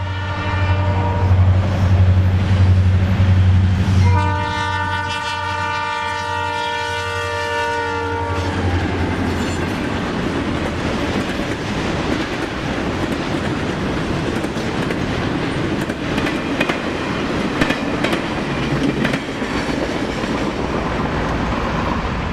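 I&O locomotive number 400 blasts past a crossing at Enon Road on a fall day, its horn sounding loud and close for several seconds before the roaring engine and rumbling cars carry on steadily to the end.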